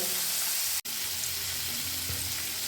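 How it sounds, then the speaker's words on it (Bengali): Paneer cubes frying lightly in a frying pan with refined oil, a steady soft sizzle close by, broken once by a brief sharp click or tap near the start. "হালকা করে পনিরটা ভেজে নিলাম।"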